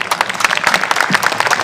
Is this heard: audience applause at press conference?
yes